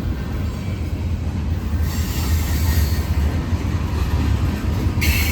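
A Norfolk Southern freight train rolls past close by at Gaffney, South Carolina, a steady loud rumble of wagons on rails with high wheel squeal running throughout, no voices.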